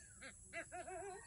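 An eagle gives three or four short, squeaky, rising-and-falling calls in quick succession, faint and thin against steady background noise.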